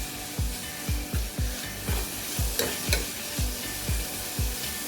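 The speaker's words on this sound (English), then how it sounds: "after adding the veggies we need to mix it and mix it properly." Vegetables, including tomatoes, being stirred in a frying pan for a veg roti roll filling: a steady sizzle under repeated rhythmic scraping strokes of the spoon, close and moderately loud, with no talk.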